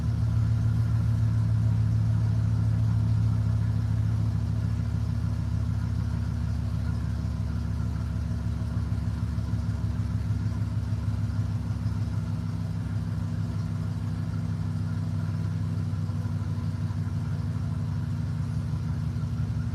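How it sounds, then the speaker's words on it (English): A truck or motorcycle engine idles nearby in a neighbor's outdoor work area, a steady low rumbling drone that holds at an even level throughout with no voices. "I got a neighbor here that works on trucks and motorcycles, and this is sometimes why I don't want to do things outdoors, because they are pretty loud."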